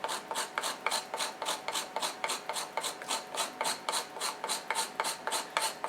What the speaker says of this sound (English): On this grater, like, it actually, surprisingly, it grinds down to a really fine powder.